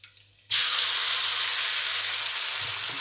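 Cumin seeds hitting hot oil in a kadai burst into a sudden loud, hissing sizzle that holds steady and close after a short quiet moment.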